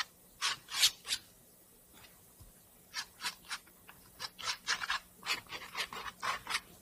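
A brush or painting tool scratching out paint on an apple painting, a series of short dry rasping strokes, close, in a loose irregular rhythm with a quiet gap early on.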